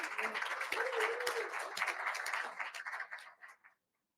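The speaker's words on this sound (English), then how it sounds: "Let's give General Brown a big round of applause, y'all" An audience at an Army association event applauds General Brown: a broad wash of many hands clapping under a speaker's voice, building then tapering and stopping abruptly near the end.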